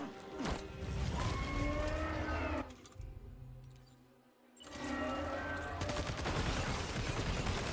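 Gunfire from the video game Death Stranding 2, loud bursts of shots in the first few seconds, a brief quieter gap, then renewed dense firing, with no talk over it.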